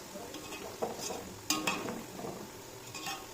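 Whole cloves, peppercorns and cardamom frying in a pan of oil for a Solapur-style dalcha rice masala, with soft stirring, scraping and a few sharp metallic clinks of a spoon against the pan over a low sizzle.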